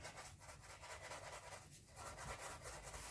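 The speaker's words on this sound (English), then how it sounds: "I just kind of use my fingers to press it down and rub it around a little bit" Gold leaf pressed and rubbed down with fingertips and a brush, a soft, steady scratchy rubbing that carries on without pause and stays quiet and close throughout.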